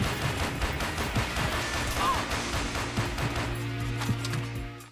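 Pistol and SMG gunfire in the video game Perfect Dark, a run of quick repeated shots with a low steady hum underneath, fairly loud and without talk.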